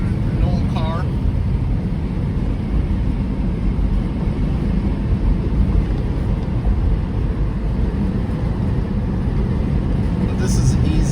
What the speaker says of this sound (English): You got your typical wind noise in an old car.